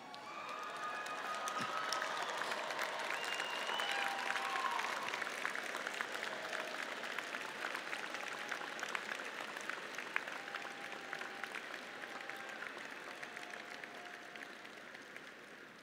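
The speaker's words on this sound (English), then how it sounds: "give your loved ones a round of applause" Commencement ceremony audience at a university clapping in sustained, dense applause that swells, peaks, then slowly tapers over several seconds, heard from a distance in a large hall.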